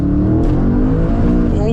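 A fifth-generation Chevrolet Camaro Z/28 engine pulls hard under full throttle, a loud, steady roar with rising harmonics filling nearly two seconds, heard from inside the car.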